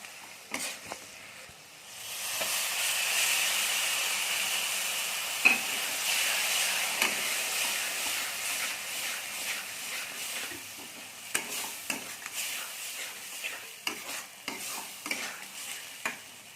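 Spiced lentil mixture being dry-fried in a pan, a continuous soft sizzle running under repeated scraping strokes of a spoon stirring it, with sharper clinks toward the end.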